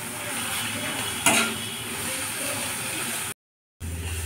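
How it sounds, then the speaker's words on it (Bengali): Spice paste being stirred and fried in a pan for a fish curry, a steady sizzling hiss with a sharp utensil scrape partway through, broken by a short silent gap near the end. "এবার এটাকে মশলাটাকে ভালো করে কষে নিতে হবে।"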